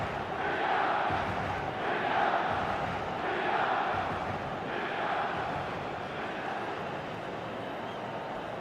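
A stadium crowd in eFootball 2026 roars in swelling waves after a goal, loud and massed, rising and easing in long surges before settling into a steady murmur.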